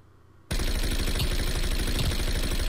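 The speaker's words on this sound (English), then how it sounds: "Those shots were fucking beautiful." Close, loud bursts of rapid automatic gunfire in Call of Duty: Cold War erupt suddenly after a quiet half-second and hammer on continuously in a dense, even rhythm.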